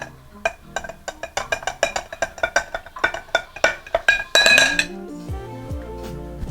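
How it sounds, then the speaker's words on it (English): Bourbon old fashioned stirred over ice in a glass, a quick run of bright clinking ice and spoon taps, close and rhythmic, ending in a louder rattle before settling. "Give it a quick stir."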